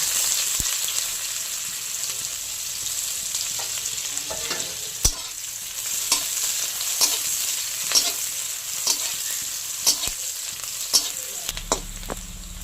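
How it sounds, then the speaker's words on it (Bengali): Chopped onion frying in hot oil with black cumin seeds and dried red chilli, a steady sizzle broken by regular clinks of a spatula stirring the pan. "পেঁয়াজ ভাজা হয়ে গেছে"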